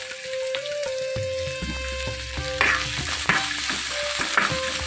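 Onions frying in a pan with a steady sizzle, repeatedly stirred and scraped by a spoon, the scraping growing busier toward the end, close and fairly loud with no speech.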